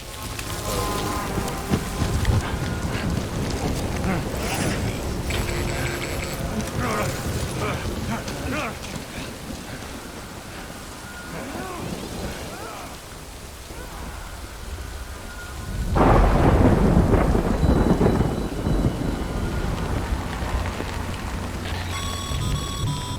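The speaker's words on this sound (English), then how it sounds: "Good thing it was raining." Heavy rain and rolling thunder in the video game Death Stranding pour steadily throughout, with a loud thunderclap swelling partway through, while a character's voice speaks over the storm.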